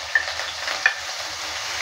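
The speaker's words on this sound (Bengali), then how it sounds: "এবার দিয়ে দিচ্ছি পেঁয়াজ কুচি।" Chopped onion sizzles in hot refined oil with whole cumin seeds as paneer roll filling, with steady broadband frying hiss and a couple of brief scraping stirs of the spatula.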